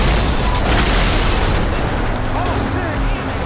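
Rumbling booms and bursts of fiery car explosions on an interstate in Grand Theft Auto 5 roll through a busy, noisy game soundscape, with someone talking over the top.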